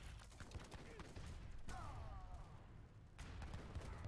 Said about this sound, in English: Some decent shots with the heavy cannons there.